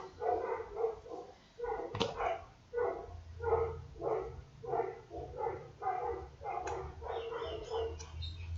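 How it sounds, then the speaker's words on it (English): Dogs bark repeatedly at a residential home where scooters pass by delivering to neighbours, a steady run of regular, fairly close barks with no talk. "Please mind the doggies, they bark at all the scooters that come through and deliver units for our neighbors."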